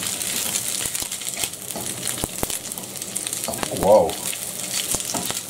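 Frikadeller fry in a pan with a steady close sizzle, punctuated by sharp clicks and scrapes and a brief louder burst near the end; someone speaks a single short word.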